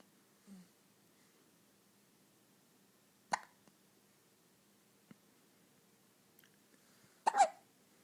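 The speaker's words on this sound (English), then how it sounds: "As soon as you get over the hiccups." A baby hiccups a few times, with two sharp, brief hiccups standing out amid near silence and one softer sound earlier, close and isolated.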